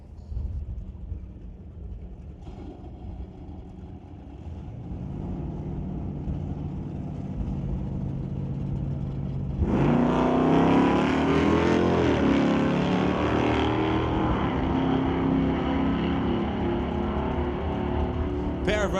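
Drag cars in the National Tire Non-Electronics class at Mission Raceway Park idle faintly, then launch with a sudden loud roar partway through. The engines rise in pitch and stay loud as the cars run down the strip.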